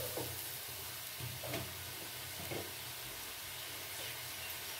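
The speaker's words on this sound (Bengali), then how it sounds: "এবার আমি এই রেডি করা মশলাটা এর মধ্যে দিয়ে ভালো করে কষিয়ে নেব" Spice paste stir-fried with vegetables, potato and pointed gourd, in a pan, a faint steady sizzle with occasional soft scraping strokes of stirring.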